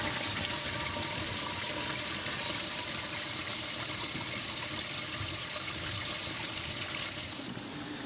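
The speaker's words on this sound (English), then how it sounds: "And let the gray water flush that out." Gray water from a camper holding tank rushes out through the dump hose and flushes the line, a steady loud gush of draining water that runs for the full stretch without talk.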